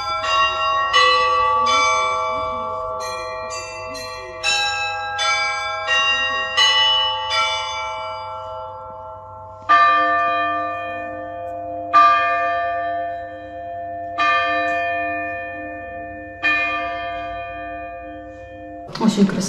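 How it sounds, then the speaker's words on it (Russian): Clock chime bells at Sviatohirsk Lavra, installed in 2012, ring a clear melodic sequence of struck tones that decay slowly, followed by spaced single strikes, loud and resonant with no talk. "Вот каждые 15 минут колокольный звон это часов."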